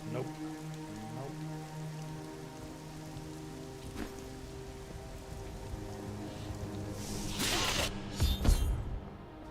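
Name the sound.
rain falling in Diablo 3 video game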